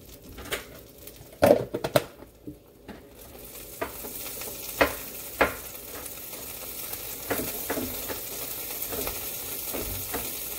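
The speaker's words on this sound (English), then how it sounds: "you know sizzling, that is because I started it off high" Butter in a hot pan sizzles softly and steadily, rising a little over time, punctuated by clicks, taps and scrapes of utensils against cookware.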